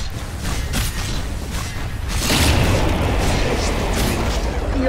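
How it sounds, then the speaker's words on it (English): A middle tower collapses in Dota 2 with a deep booming crash that swells into a sustained rumbling, crumbling roar after a stretch of quieter in-game clatter. "Your middle tower has fallen."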